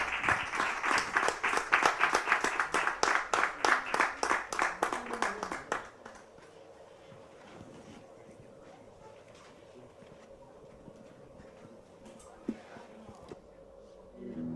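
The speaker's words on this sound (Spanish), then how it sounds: "Ese aplauso para Luis Pérez Erichol" Applause from an audience at a Spanish event, a close run of clapping for about six seconds that cuts off into quiet room tone with faint distant sounds.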